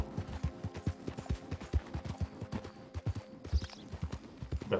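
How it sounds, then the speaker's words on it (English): Hooves clip-clop in a steady walking rhythm as a horse moves along in Red Dead Redemption 2, close and distinct, with a faint background ambience. "The horse automatically slows down."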